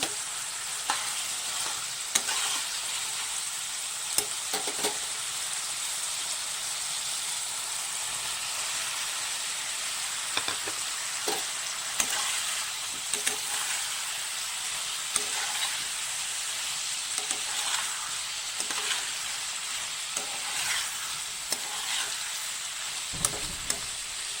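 Potatoes and tomato sauté in a pan for a fish curry, giving a steady, close sizzle and hiss throughout with scattered clicks and scrapes of stirring and no voices.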